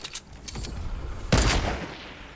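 A heavy assault rifle fires in the Fortnite video game: a few quick shots at first, then a louder, denser burst of gunfire that echoes and fades, with no talking.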